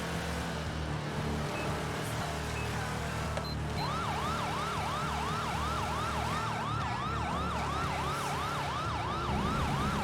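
A police car siren wails in a steady repeating cycle during a night pursuit in GTA with LSPDFR, loud and continuous over engine rumble, starting a few seconds in and persisting to the end.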